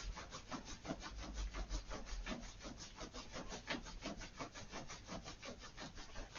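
Hands rub briskly up and down the inner legs in a steady, rapid back-and-forth rhythm of soft scraping strokes, faint and close, with no talking.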